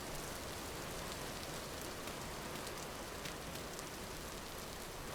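Steady rain falls in the video game Vintage Story, a dense, even hiss of drops on surfaces that continues without a break, with no other sounds.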